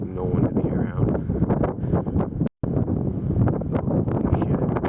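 Strong wind during a dusty April wind storm, gusting and buffeting the microphone in a continuous roar with rustling bursts, loud throughout apart from a brief dropout, while a person talks.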